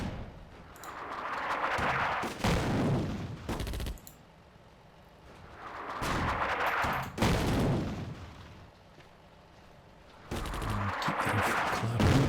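Battlefield gunfire in the North Africa wargame Attack at Dawn, with machine guns and rifles crackling in three heavy bursts separated by quieter gaps, plus occasional sharp reports.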